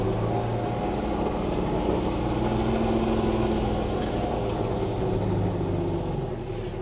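A 2021 Kubota RTV-X1100C utility vehicle fitted with a blade pulls away with a steady, close, rumbling diesel drone that holds constant throughout and eases slightly at the end, with no talk.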